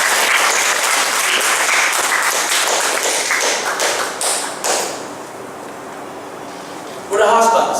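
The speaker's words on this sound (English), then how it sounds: "Can we give a clap offering to our God?" A church congregation claps together in a loud, dense burst of applause lasting about four seconds. It tapers off into a quieter room, and a voice briefly speaks near the end.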